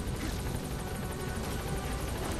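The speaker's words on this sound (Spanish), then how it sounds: "Baja el helicóptero, cabrón." A helicopter in the Metal Gear Solid V: The Phantom Pain video game hovers down to land, its steady rotor thump and turbine whine filling the scene continuously at moderate loudness with no voices.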